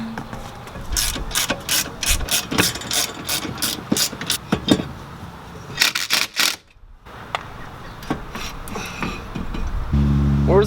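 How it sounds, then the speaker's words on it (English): A ratchet clicks in quick bursts while loosening the wheel nuts on a BMW E36, with rapid repeated pawl clicks, short pauses between the bursts and a faint low hum at the very end. "Loosen the wheels first."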